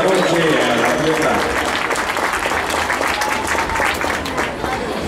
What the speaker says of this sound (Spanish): Venga el aplauso esta noche a la fiesta.